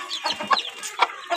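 Chickens cluck in short, uneven bursts, close and fairly loud, while chicks are moved one by one into their cage on a farm.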